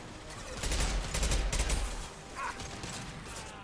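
Gunfire-like blast fired from an impact shot power in the video game Mass Effect Legendary Edition, a loud burst with a rumbling low tail lasting about a second and a half, followed by a brief bright mechanical zing.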